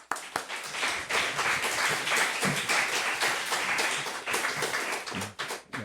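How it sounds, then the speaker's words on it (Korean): Sustained audience applause in a church youth service welcoming a visiting pastor, steady dense clapping from many hands that swells and then trails off with a few scattered claps at the end. "오늘 목사님 나오실 때 큰 박수로 목사님 환영하는 박수로 맞이하겠습니다"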